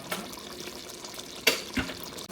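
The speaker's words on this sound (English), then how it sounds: "1/4 cup of hot water so that the potatoes can cook some more" A quarter cup of hot water is poured into a cooking pot of Guyanese stew chicken and potatoes on low heat, a brief quiet splash and trickle with a couple of soft clinks, faint and close.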